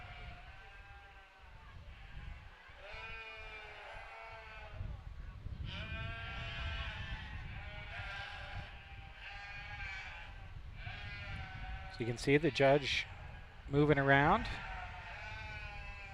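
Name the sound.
sheep bleating in a fair show ring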